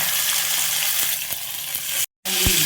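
Crushed pepper, cumin, garlic and curry leaves frying in hot oil for tomato rasam, a loud, steady close sizzle with a few soft taps, cut by a brief silent gap near the end.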